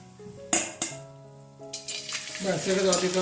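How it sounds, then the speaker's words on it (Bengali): Rice flour papad frying in hot oil, with a steady sizzle that swells in the second half and a few sharp clinks of a utensil against the pan early on. Faint harmonic tones sit underneath throughout. "পাঁপড়গুলো দেখতে কীরকম দেখো ভাজলে কীরকম হবে দেখো সুন্দর হচ্ছে"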